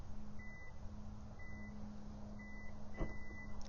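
Four short electronic beeps from a 2019 Hyundai Santa Fe's power tailgate sound at even intervals over a low engine hum, fairly quiet.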